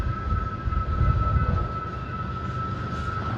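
Freight train with a DPU locomotive rolling past on a cold, windy day in Plattsmouth, Nebraska, a low steady rumble of cars with a faint sustained tone, moderately distant.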